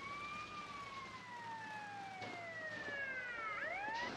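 Fire brigade siren from GTA Vice City, a steady electronic wail whose pitch sweeps slowly downward, then rises again near the end as a second tone layers in, loud and continuous with no talk over it.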